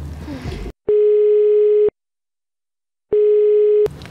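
A telephone call tone plays up close as two long, steady electronic beeps separated by silence, with brief talk before and after.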